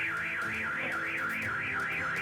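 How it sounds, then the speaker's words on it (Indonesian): A car alarm blares outside a house in a theft scene, a loud wailing siren that sweeps up and down in a regular, repeating rise and fall throughout, with no voices. "alarm mobil berbunyi"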